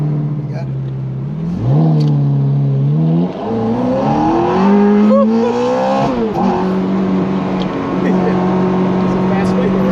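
Ferrari F430 Coupe engine heard from inside the car, climbing hard toward the red line in rising surges between gear changes, loud and close, with voices talking over it.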